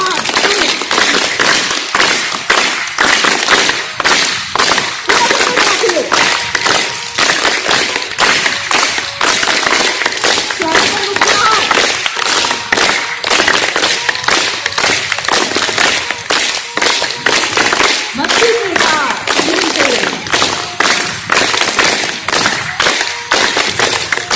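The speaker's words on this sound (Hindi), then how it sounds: "2 मिनट हर रोज ताली वादन" Rhythmic hand clapping keeps a fast, steady beat as a daily clapping exercise, with sharp claps repeating evenly and loudly from start to finish, over a faint background.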